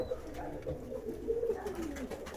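Soft, low pigeon coos repeat in a steady rolling murmur, close by, with no talking.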